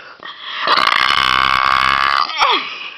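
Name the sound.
loud burp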